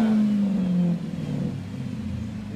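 A Dodge Charger R/T Hemi V8 with straight-pipe exhaust revs hard up close with a deep, throaty roar, then settles into a low rumbling idle.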